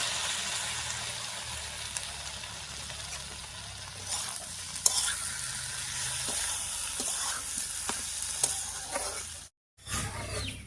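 Ground ginger, garlic and chilli paste sizzles and fries in a pan for a prawn curry, with steady hiss and a few scraping stirs, close and moderately loud, cutting out briefly near the end.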